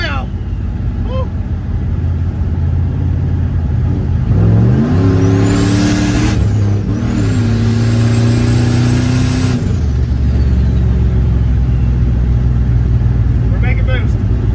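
A turbocharged LS V8 in a Caravan revs up hard while driving, engine note climbing in pitch, dipping between gears, then surging again, loud and close inside the cabin before settling to a steady cruise drone.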